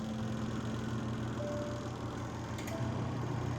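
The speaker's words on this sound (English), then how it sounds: "See, the motor is turning. The motor is working, it's completely fine." A 110 volt washing machine motor turns with a steady, low electrical hum and faint mechanical whir, running continuously at an even pitch without pauses.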